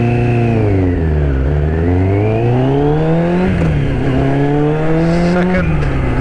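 A Kawasaki ZX6-R or Yamaha Thundercat sport motorcycle accelerates hard through the gears. The engine whine climbs, drops at each shift and climbs again, loud and close throughout.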